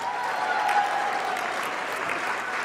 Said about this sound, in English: She loves some applause.